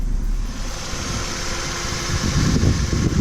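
A 1.4 petrol Opel/Vauxhall Astra H engine idles close by with a steady low hum and faint fan whir, growing slightly rougher toward the end.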